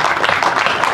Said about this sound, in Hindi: एक बार जोरदार इनके लिए तालियां हों